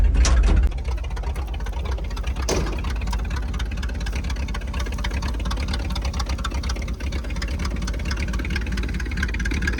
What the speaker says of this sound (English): let out of the clutch and see how slow this thing will crawl